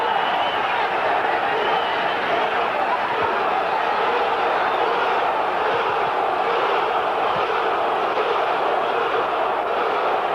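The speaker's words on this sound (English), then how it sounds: "Crowd trying to urge Morales on." A boxing arena crowd at an Erik Morales vs John Lowey bout roars in a dense, sustained wall of cheering and shouting late in round 4, loud and unbroken throughout.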